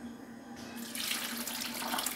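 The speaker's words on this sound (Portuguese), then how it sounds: "Aí eu vou colocar meio litro de água pra poder bater bem." Water runs steadily into a blender jar, half a litre added for pineapple and mango juice, a close, continuous splashing rush that swells louder partway through, with no talk over it.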